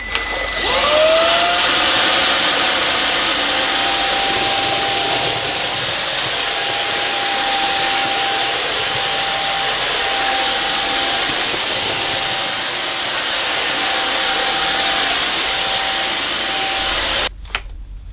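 An Amazon Basics cordless vacuum cleaner runs on maximum suction over carpet, a loud steady high-pitched whir that spins up at the start, holds constant, then cuts off sharply near the end, with no talk.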